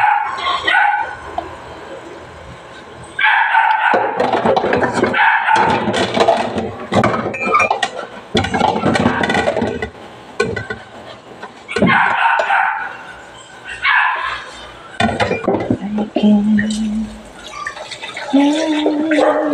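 A neighbour's dog barks repeatedly in loud bursts with short pauses between, mixed with other noisy sounds.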